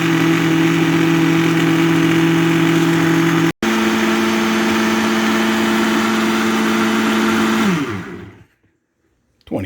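A Vitamix blender churns an avocado meal-replacement smoothie, running loud and steady with a strong motor whine, briefly cutting out once, then winding down and stopping near the end.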